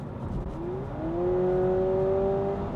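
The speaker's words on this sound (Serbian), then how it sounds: "I taj zvuk promene brzine kada dodate gas je takođe zvučnik," Synthetic engine sound from the speakers of a Honda Civic e:HEV hybrid rises under throttle, its tone sweeping upward with artificial gear-change steps over a low road hum, with no talking.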